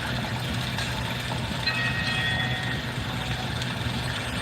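A train rolls over tracks buried in a street, giving a loud, steady rumble and rolling wheel noise with faint high metallic squeals throughout.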